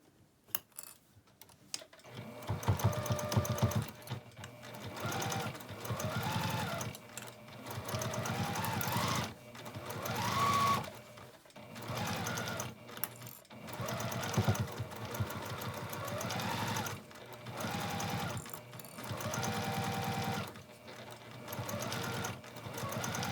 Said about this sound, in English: now we just sew all the way around the rim with a 1/4 inch seam